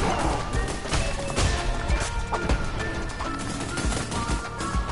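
Rapid bursts of gunfire from the video game Cult of the Lamb crackle in quick succession, dense and loud, with sharp impacts scattered throughout.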